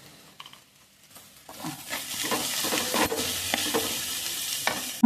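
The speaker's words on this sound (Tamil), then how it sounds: "finely chopped green chilies, sauteed with golden brown." Curry leaves and green chilies sautéing in a pan, starting quiet and then breaking into a bright, steady sizzle with scattered scraping stirs, close up and without speech.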